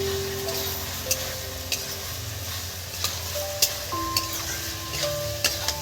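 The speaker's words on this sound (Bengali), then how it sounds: "এবার এর মধ্যে যে কারি পাতাগুলো ছলা ছিল সেইগুলো দিয়ে দিচ্ছি বন্ধুরা" Curry leaves hit vegetables cooking in a pan, giving a continuous soft sizzle and stirring hiss punctuated by light utensil clicks and taps, with no voices.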